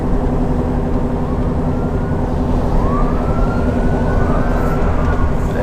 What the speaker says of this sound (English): heard a bunch of sirens